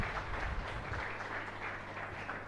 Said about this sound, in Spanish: Y un fuerte aplauso para todos ustedes.